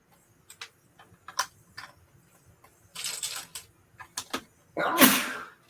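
A man sneezes once loudly near the end, after a stretch of faint ticking, tapping and scattered small noises in a quiet room.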